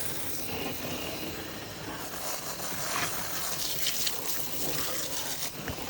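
Running water washing blood from freshly processed rabbit meat, a steady close trickle and splash of water over flesh, continuous and fairly loud with no talking.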